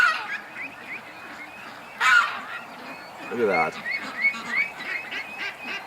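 Ducks leaving a grassy area for a lake give scattered honking quacks, a few at moderate distance, with a brief spoken remark among the calls.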